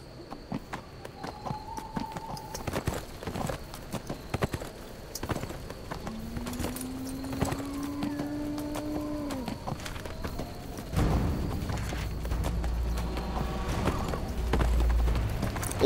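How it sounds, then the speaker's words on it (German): Horse hooves galloping in the fantasy video game Neverwinter, a steady rapid clip-clop of hoofbeats running throughout, with a brief whinny-like tone and game ambience mixed in, loud and alone without talk. "So, aufs Pferd geschwungen"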